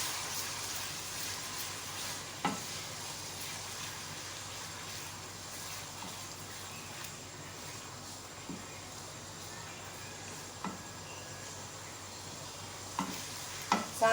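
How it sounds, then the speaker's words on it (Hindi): Garlic ginger paste fries with whole spices, giving a soft, steady low sizzle with occasional light clicks of stirring. "इसके अलावा लहसुन अदरक का पेस्ट आएगा 1 टेबल स्पून, उनकी भुनाई कर लें।"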